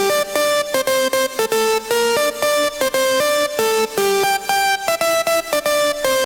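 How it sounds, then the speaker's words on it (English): An Angelcore lead built from two layered synths made from a vocal sample plays a bright, choppy melodic pattern of short stepping notes, loud and alone with no talking. "on the chorus we have a lead that I used 2 layers to make the lead"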